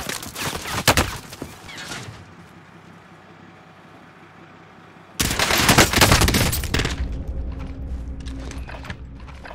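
M16 rifle gunfire in Call of Duty Warzone, with a dense, loud burst of rapid shots, then a quieter stretch, then another sustained roaring volley of fire close up.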